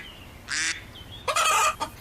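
Cartoon rooster giving two bursts of loud, nasal clucking squawks, a short one followed by a longer, harsher run with a brief tail, close and alone without talk.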